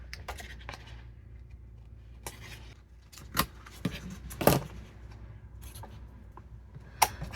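Paper overhang is trimmed off while folding a flip flop envelope, giving a few faint, scattered snips and scraping rustles with quiet gaps between.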